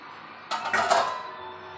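Cut bread pieces stirred into masala in a bowl make a short burst of scraping, clinking utensil-on-bowl sounds that rise and fade within about a second against a quiet kitchen background.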